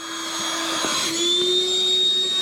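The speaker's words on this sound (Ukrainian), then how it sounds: "Насос вирива, резина ніфіга не качається." Electric air pump inflating a rubber boat outdoors in a snowy forest, a loud close steady whining drone whose pitch rises slightly partway through, with no talking.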